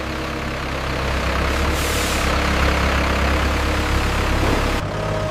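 A transport truck idles at a wool-handling facility, its heavy low engine rumble steady and close, with a burst of hissing air partway through before cutting off abruptly near the end.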